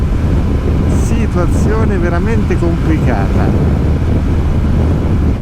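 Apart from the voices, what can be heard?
very strong wind on motorcycle ride in Argentina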